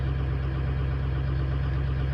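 A 2005 vehicle's engine idling up close under diagnosis with a weak injector, a steady low drone with a slightly uneven pulse and no voices.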